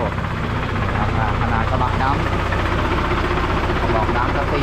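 A Mitsubishi Fuso six-wheel dump truck's diesel engine runs steadily in a repair yard, giving a close, continuous rumble at an even idle.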